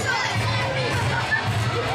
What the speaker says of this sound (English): the crowd here in Yulee is happy to see Chris Turner back in action